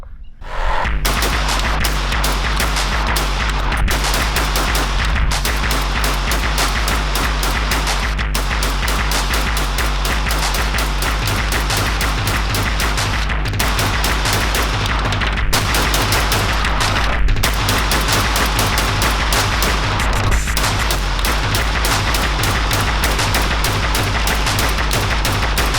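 An Armscor/RIA VRBP-100A shotgun fires rapid continuous volleys, loud close booming shots in quick succession over a 100-round string, with only brief pauses between bursts.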